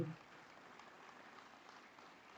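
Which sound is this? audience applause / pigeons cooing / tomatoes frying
audience applause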